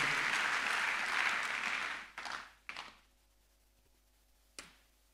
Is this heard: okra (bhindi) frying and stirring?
no